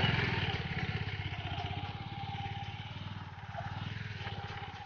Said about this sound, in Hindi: अभी हम लोग सब बाइक से जा रहे हैं